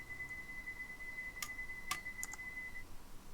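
Clicks in a Train Sim World 2 cab on the Bakerloo line: a few sharp, bright ticks spaced irregularly over a steady high electronic tone, with faint cab ambience and no talking.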